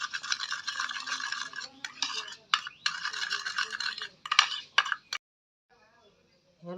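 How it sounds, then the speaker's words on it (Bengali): A spoon stirs milk and sugar together in a small bowl, a quick scraping, clinking whir that runs in bursts for about five seconds before falling silent, with a voice briefly at the end. "এই চামচের আর একটু চিনি নিলাম, কালারটা ভালো আসবে। ভালো করে মিশিয়ে নেব।"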